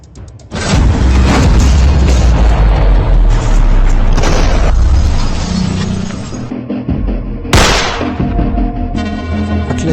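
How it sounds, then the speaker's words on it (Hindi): A large artillery blast near the Belarus border booms loud and close, followed by a long rumbling roar and a second sharp burst, with no talk over it. "आर्टिलरी फायर के दौरान न्यूज नेशन की टीम बेलारूस के बॉर्डर के इलाके में मौजूद हैं। तो दोबारा आसपास एक बड़ा धमाका हुआ है।"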